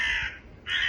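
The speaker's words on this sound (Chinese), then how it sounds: "乌鸦叫" A crow cawing as a sound effect: two harsh caws, the first longer and the second starting after a short gap, loud and close with nothing else behind them.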